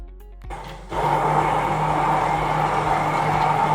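A blender blitzing sauce for creamy butter chicken, starting with a short switch-on burst and then running as a loud, steady whir that continues to the end, no talking.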